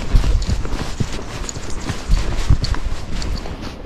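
Standardbred horse hooves clip-clopping at a steady walk on a trail, close and fairly loud, with a regular four-beat rhythm and no talking.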